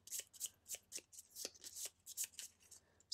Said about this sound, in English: we're just going to go ahead and shuffle.